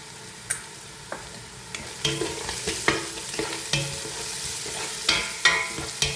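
Onions sautéing in a pan with a pinch of salt for mutton biryani, a steady soft sizzle broken by repeated scrapes and clacks of a spoon stirring against the pan, close and alone with no talk.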